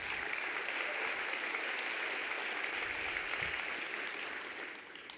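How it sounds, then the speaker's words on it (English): An audience at a city budget forum applauds, a dense, even wash of clapping held steady throughout, fading slightly toward the end. "So give her a big round of applause."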